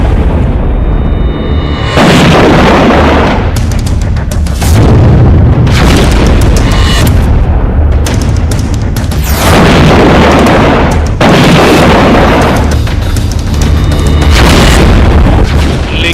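Loud, heavy booming blasts from a Ukrainian army strike on Russian positions on Snake Island, several deep explosions rolling one after another with rumbling tails, no talk.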